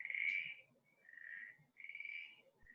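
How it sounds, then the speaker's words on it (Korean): Recorded frog croaking plays from a button on a children's nature sound book, a few sustained buzzy calls repeating close and clear with brief gaps, no talking over it. "이게 개굴개굴 소리예요."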